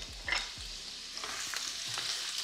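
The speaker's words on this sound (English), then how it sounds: "when you add in your vegetables into the warm oil, they begin to sizzle straight away." Steady sizzling and crackling of vegetables frying in hot oil, with a few light clinks of stirring, alone and fairly quiet.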